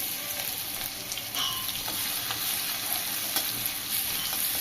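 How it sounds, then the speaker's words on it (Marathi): Green chili paste with garlic sautéing in a pan, a continuous bright sizzle with repeated scraping and stirring strokes, close and fairly loud, with no voices. "काही सेकंदासाठीच परतून घ्यायचं आहे"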